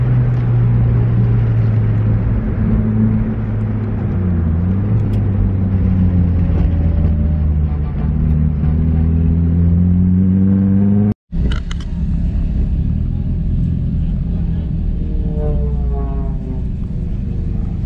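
A Corvette chasing a Mazda Miata during hot laps on a racetrack, a loud close engine drone that rises and falls through gear changes, with a sharp break and then more revving.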